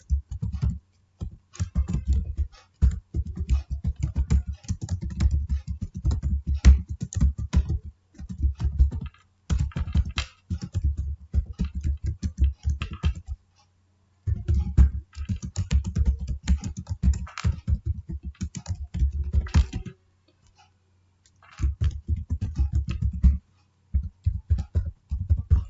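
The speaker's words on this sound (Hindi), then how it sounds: "तो यहाँ पर हम एड्रेस टाइप कर दिए।" Fingers type an address on a computer keyboard in quick close-up bursts of clicky keystrokes, broken by short pauses, with no voice over it.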